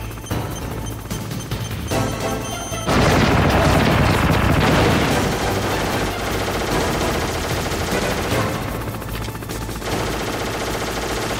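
Machine-gun fire, crashing impacts and an incoming rocket blast in the 1998 Metal Gear Solid, loud and dense, with a heavy burst hitting about three seconds in and rattling gunfire continuing after it.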